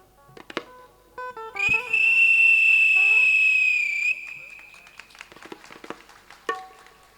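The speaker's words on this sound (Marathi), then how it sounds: "लग्नाला एकदा शिट्टी मारा" An audience member at a Marathi comedy bharud performance gives a single loud, high sustained whistle for a couple of seconds amid scattered taps, clatter and faint background voices.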